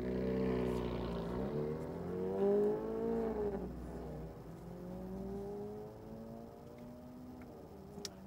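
A Chevrolet Corvette C8 accelerating on a race track, its engine rising in pitch through the gears with a drop after each shift, heard steadily from inside the car with no talking.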